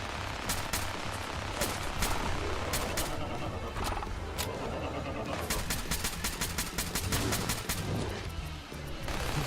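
Rapid gunfire from the video game Fallout 4, with sharp repeated shots over a dense, busy backdrop of game noise, including a horse-like whinny, running throughout.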